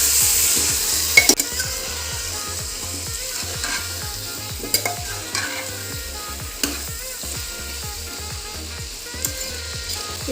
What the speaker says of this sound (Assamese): এতিয়া আমি ভালদৰে সকলোবিলাক চব্জি মিলাই দিছোঁ।